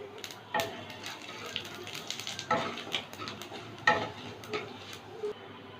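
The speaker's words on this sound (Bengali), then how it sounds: "ফোড়নটা একটু ভেজে নিলাম।" Cumin seeds, bay leaves and a dried red chilli fry in hot oil left from frying potatoes, a faint crackling sizzle broken by several sharp spoon scrapes and clinks against the pan.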